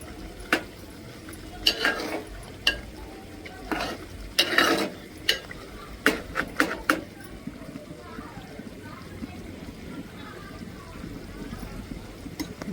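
A spoon scrapes and stirs village-style chicken curry in a pan, giving intermittent clinks and scrapes over a soft sizzle, with a few louder strokes spaced irregularly.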